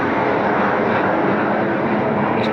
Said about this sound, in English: It's not a Blue Angel, but it is a Navy jet.